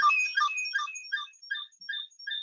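A phone ringtone plays a bright, quick melodic pattern of short electronic notes that repeats several times, fairly quiet and alone.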